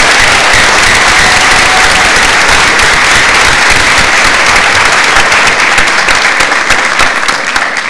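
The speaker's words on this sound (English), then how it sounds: "Let's give them a round of applause" Dense, steady applause from an audience at a school board meeting, cheering the San Benito school band. The clapping is loud and continuous, with no gaps for the full length.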